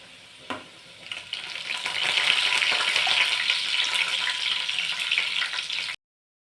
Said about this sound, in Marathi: लसूण छान सोनेरी रंग येईपर्यंत तळून घ्यायचा आहे म्हणजे चांगला असा भाजून घ्यायचा